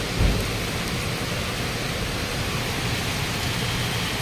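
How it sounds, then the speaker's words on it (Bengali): Heavy rain pours steadily in the early morning during a downpour, with a dull low thunder rumble at the start and a constant dense hiss throughout; no voices. "এত জোরে বৃষ্টি পড়ে"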